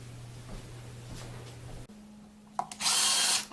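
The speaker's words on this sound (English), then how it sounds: "Start off by just drilling" A power drill hums steadily as it bores a pilot hole through wood, then changes pitch and ends in a loud burst of grinding, rushing noise as the bit breaks through, close by with no talking.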